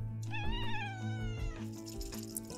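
Several cartoonish cat meows from the video game Quilts & Cats of Calico, rising and falling in pitch over a steady musical backdrop, close and clear with no talking.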